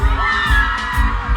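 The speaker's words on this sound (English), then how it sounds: "send a scream for me please" A packed concert crowd at the Reggae Sumfest 2022 music festival screams loudly and continuously in a dense, roaring wash, with booming bass pulses underneath.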